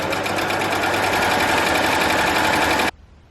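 A Babylock Acclaim overlocker running a narrow 3-thread stitch, a fast, loud, even mechanical whirr with rapid rhythmic ticking that cuts off abruptly near the end into near silence.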